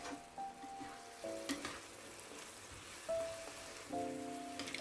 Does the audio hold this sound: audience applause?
no